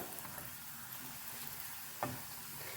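Plantain slices coated in semolina shallow frying in oil in a pan, giving a soft, steady sizzle throughout with one brief utensil clatter near the end; no talking.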